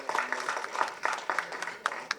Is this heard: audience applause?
yes